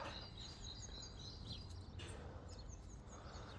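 Starlings feeding at a garden feeding spot, with faint, scattered high chirps and tweets over a soft background hiss, distant and quiet, with no one talking.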